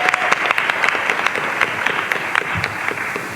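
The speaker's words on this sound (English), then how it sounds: "Round of applause for our second and our third." A convention panel audience at San Diego Comic-Con applauds players in a live Dungeons & Dragons game, a loud, continuous crowd clapping with distinct sharp claps popping out near the front.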